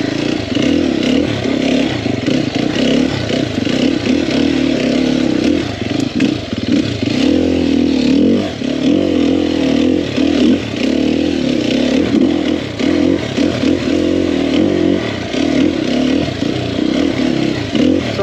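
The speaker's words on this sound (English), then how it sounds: "And this bike just tractors over everything." A Sherco 300SEF four-stroke dirt bike from 2021 rides a trail, its engine loud and close with a steady chugging drone, uneven throttle changes and clattering over rough ground throughout.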